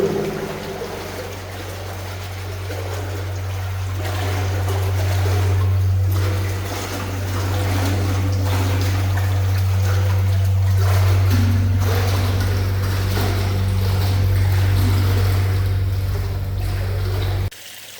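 Water flushes out of a Rozhnovsky-type water tower during cleaning, carrying sand up from the borehole: a steady, loud rush with a constant low pump-like hum under it, running unbroken before cutting off at the end.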